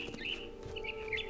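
Brief chirps from a frightened bird in the video game What Remains of Edith Finch, a few quick repeated calls over a low steady ambient tone.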